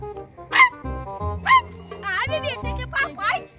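A person imitates a dog barking with several short yelping vocal bursts, close and fairly loud, among other voices and children's talk in a playful indoor setting.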